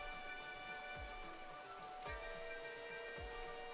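Steady rain falls throughout a Pokémon video game battle, a constant wash of patter with a few soft low thumps, at low volume over game music and with no talk.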